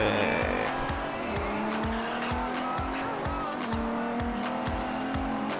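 A race car in Forza Horizon revs hard with its tires squealing. The engine drones loudly and keeps rising and falling, with a steady screech of rubber through the whole stretch.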